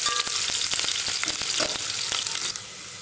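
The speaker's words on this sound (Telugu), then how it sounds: "ఇలా సన్నగా కట్ చేసి పెట్టుకున్న ఆనియన్స్ని ఇప్పుడు ఈ ఆయిల్లో వేస్తున్నాను ఇది brown and brown golden colour వచ్చేంత వరకు ఫ్రై చేసుకోవాలి" Thinly sliced onions fry in hot oil for a chicken dum biryani, a loud continuous close sizzle broken by repeated crackles and spatters, easing slightly at the end.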